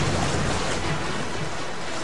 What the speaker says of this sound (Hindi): समुद्र तट पर छोटी लहरों के टकराने के अलावा बड़ी लहरें भी आती हैं, जो समुद्र तट से लगातार टकराती रहती हैं